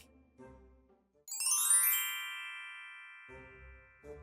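A phone rings once in a quiet home, a bright chiming tone that swells and slowly fades, with soft background sounds before and after it.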